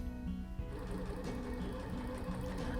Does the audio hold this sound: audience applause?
no